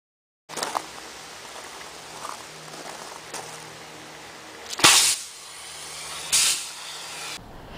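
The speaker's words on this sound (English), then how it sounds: "It's a knife with a CO2 cylinder to inject a huge ball of freezing gas" A knife fitted with a CO2 cylinder releases freezing gas: a steady close hiss runs throughout, broken by two sharp, louder bursts of spraying gas a moment apart, with no talking.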